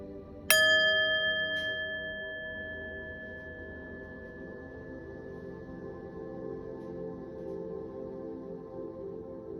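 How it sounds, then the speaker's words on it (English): A singing bowl is struck once, giving a bright metallic ring with clear overtones that fades slowly over several seconds into a soft, sustained hum, close and quiet with no talk. "I'm going to ring the singing bowl, clear the energy"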